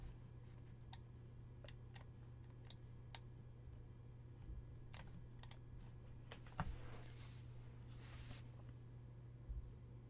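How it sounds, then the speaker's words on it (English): Faint keystrokes tap on a Power Macintosh 5500/225 keyboard as a password goes in, a few scattered clicks and a short quicker burst over a low steady electrical hum in a quiet room. "Type in my password."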